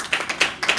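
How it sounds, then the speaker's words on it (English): A church congregation clapping at a Sunday service, with several sharp, evenly spaced claps in a quick steady rhythm, close and fairly loud with no talking. "Can we clap a hand for our sister?"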